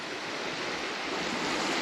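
Waves wash steadily against a lakeshore at a Door County campsite, a constant broadband rush with no breaks, fairly close and alone with no voices.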